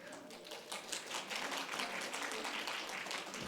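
A church congregation claps during a Sunday worship service after prize-draw winners are announced, a dense, steady patter of many hands filling the room at moderate level with no break.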